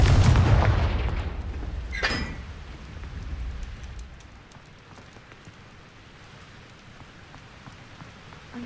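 The Confringo blasting spell in Hogwarts Legacy fires with a loud boom and a sharp crackling burst, then fades into a long rumbling, rain-like hiss.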